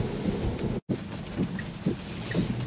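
Steady rain hisses and patters around a car on the road, a broadband wash with soft low rumbles and a brief dropout partway through; no one speaks.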